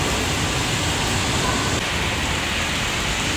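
Steady rain pouring down on a city street near a bus stop, a dense even hiss of drops on hard surfaces with no break, fairly loud and close.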